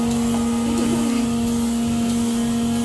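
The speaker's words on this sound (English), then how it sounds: "sucking them up just like a little vacuum" Microdermabrasion vacuum suction device running on skin during a facial, a loud, steady humming drone with a constant tone and a slight wavering rush, continuous throughout.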